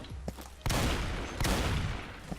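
Loud, close gunfire bursts in Counter-Strike, two heavy volleys of rapid shots with a few lighter pops in between.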